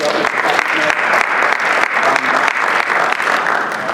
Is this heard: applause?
yes